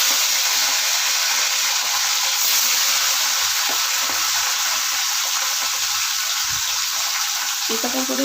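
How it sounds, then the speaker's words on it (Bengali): Fish pieces shallow-fry in a pan with a loud, dense, continuous sizzle that holds steady throughout, a faint clink or stir breaking in near the end and no voices. "এবার মাছগুলো ভাজবো"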